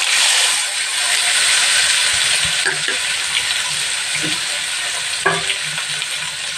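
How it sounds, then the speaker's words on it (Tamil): Onions and tomato sautéing for mutton curry, a loud steady sizzle that fills the whole stretch, with a few scattered utensil clinks and stirs. "கொஞ்சம் நேரம் இதை வதக்கிடுவோம். இப்போ இந்த வெங்காயம் தக்காளி கொஞ்சம் வதங்கிட்டுருக்கு."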